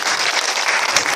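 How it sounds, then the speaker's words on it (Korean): A church congregation at a monthly medical mission fellowship meeting gives a brief, loud round of applause, dense clapping filling the entire short span. "하나님께 영광의 박수를"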